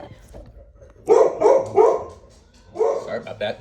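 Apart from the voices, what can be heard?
dog barking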